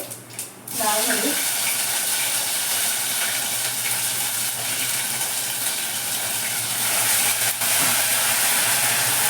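Cumin seeds land in hot oil while someone cooks and set off a loud, steady sizzle and crackle. The frying hiss keeps going for several seconds with almost no break.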